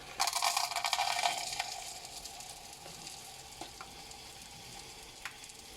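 Pink bath salt is scooped from a soft packet, a close crackly rustling and granular rattle that is loudest at first, then thins to scattered small clicks and taps.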